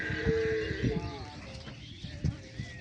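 Dairy cows and pregnant heifers at a large cattle farm, a close moo-like lowing call with harmonic tones that fades, with voices and farm activity around it.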